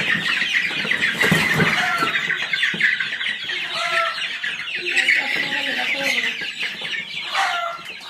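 Hens cluck repeatedly in a backyard poultry setting, a dense chorus of short clucks and squawks close by, with occasional louder calls.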